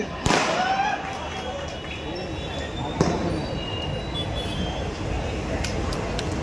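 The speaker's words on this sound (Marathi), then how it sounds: "हे जरा फटाके तर बंद करा ना" Sharp firecracker bangs burst out amid a noisy outdoor crowd at a political rally in Thane, with smaller crackling pops scattered through the din.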